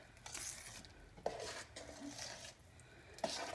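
Mac and cheese powder from the envelope is stirred in a dish with a utensil, giving quiet, rhythmic scraping strokes punctuated by two sharper clinks against the side, close up and without speech.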